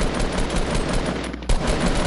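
Rapid gunfire in the Fortnite video game rattles on loudly for about two seconds, with a brief dip near the middle before the shooting resumes.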